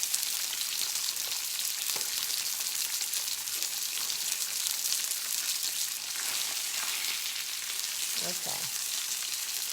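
Oil spatters and sizzles steadily in a pan while salmon fries, a constant crackling hiss at moderate level, with a brief spoken word partway through.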